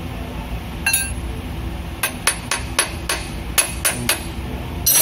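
Hammer knocks during an oil change on a Volvo 440: a single strike, then a run of about eight sharp metallic blows at an irregular rhythm, close and clear over low workshop background noise.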